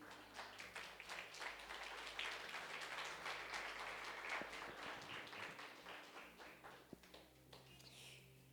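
A church congregation claps in praise to the Lord during a sermon, a dense, steady stretch of applause that stays fairly faint and distant and slowly thins toward the end.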